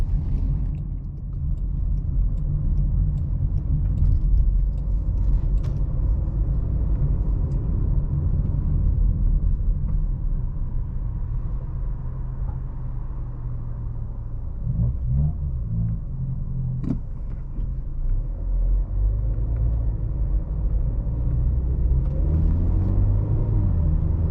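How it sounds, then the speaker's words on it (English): A 2022 Jaguar E-Pace SE with a 9-speed transmission pulls hard at full throttle, its engine and road rumble holding a steady low drone throughout, with no talk heard. "we'll just mash the throttle and see how the transmission reacts"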